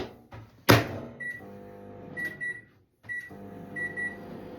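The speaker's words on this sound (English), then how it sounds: "we can now pop this into the microwave." A microwave oven hums steadily with a low mechanical drone while heating a Tupperware micro pressure cooker, punctuated by a loud click or clunk near the start and a few faint beeps.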